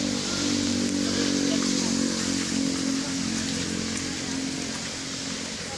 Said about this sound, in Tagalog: It's raining ha, raining.